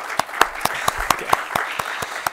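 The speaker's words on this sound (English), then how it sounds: "I'd love it if we could just have one round of applause just to privilege the wonderful participants who made this conference, I think, such a great success" A conference audience applauds in a short burst of clapping, with distinct handclaps standing out above a steady wash of applause from a mid-sized crowd.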